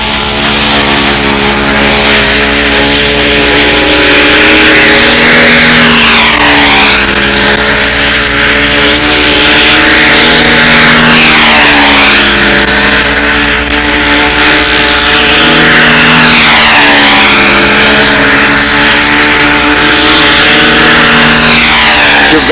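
A control-line model airplane engine at a windy fly-in runs loud and continuous for the whole stretch, a high-pitched buzzing whine that wavers in pitch as the plane circles and does touch and goes.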